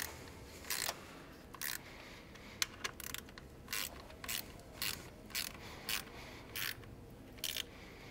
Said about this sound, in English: That's why I'm using such a small wrench.